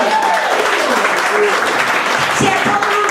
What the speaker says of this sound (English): I tell a room full of strangers, I get a round of applause